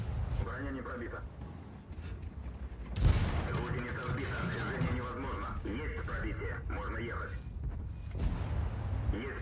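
Tank shells clang and bounce off spaced armor in the World of Tanks video game, a sharp loud impact near three seconds amid steady gunfire, engine rumble and crew radio chatter.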